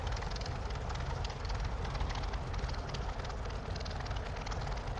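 A P-40F Warhawk engine idles in a flight simulator game, giving a steady, loud, continuous drone that never changes through the whole stretch.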